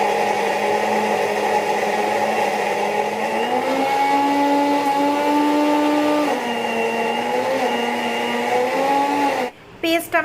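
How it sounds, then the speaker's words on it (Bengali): An electric mixer grinder whirs steadily at high speed, blending boiled food into a paste, its motor pitch shifting slightly as the load changes, then cutting off abruptly near the end. "এবার এটাকে মিক্সারে ভালোভাবে পেস্ট করে নেব।"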